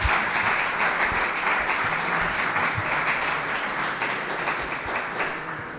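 An audience at a lecture on the Spanish tercios applauds a thesis director, a broad, even roar of clapping that holds steady and fades slightly toward the end, with no voices over it.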